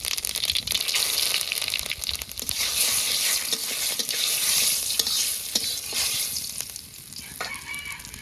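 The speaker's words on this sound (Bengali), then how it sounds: "তেলের পরে দিব জিরে আর রাঁধুনি আর দুটো তেজপাতা" Cumin, radhuni and bay leaves crackle in hot oil with a loud, bright, continuous sizzle from start to finish, with no talk.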